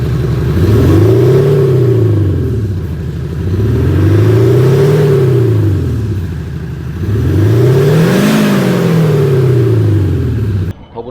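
SsangYong Rexton Sports Khan fitted with a Kupatec active sound exhaust, revving in three long swells that rise and fall, loud and close, with a deep droning engine note and no talk.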